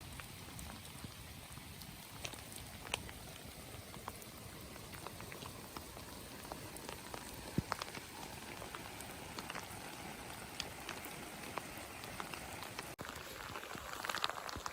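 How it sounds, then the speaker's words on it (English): Rain falls steadily on an evening campsite as darkness sets in, a dense, even patter with occasional louder drops, heard alone without talk for about fifteen seconds. "And the rain has come in again."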